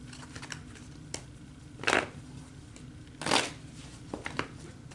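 Tarot cards being shuffled, with two short riffling bursts and scattered light card taps over a quiet background.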